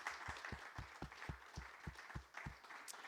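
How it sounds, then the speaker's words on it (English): Sparse, faint clapping from a small crowd at a community league plaza ribbon cutting ceremony outdoors, a handful of distinct claps in steady rhythm over a low background hum. "Can I have a round of applause for Dr."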